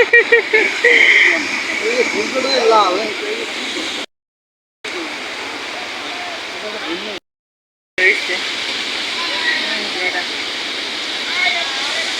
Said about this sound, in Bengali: ঢেউয়ের মধ্যে সবাই গোসল করতেছে সাগর পাড়াইসা